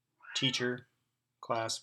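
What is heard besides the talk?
cat meowing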